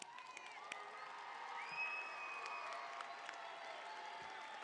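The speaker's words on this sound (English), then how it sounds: "Please, go ahead, stand up and give them a round of applause." Audience applause and cheering at a college commencement, sustained clapping with scattered whoops and whistles from a large crowd, fairly distant and even throughout.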